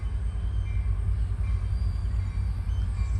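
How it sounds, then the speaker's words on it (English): A loud, steady train rolls past a rural crossbuck-protected railroad crossing on a grain line, its deep rumble and wheel noise filling the scene continuously with no horn or voices. "Here comes the train."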